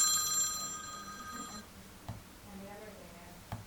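A telephone ringing over speakerphone, heard as a steady electronic ring tone with bright harmonics for about a second and a half, then faint clicks and a short ring-back tone before the line goes quiet.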